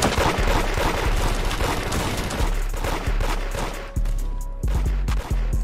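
Rapid bursts of gunfire in the Roblox game Da Hood, dense repeated shots and sharp pops continuing loudly throughout, with a few brief gaps near the end.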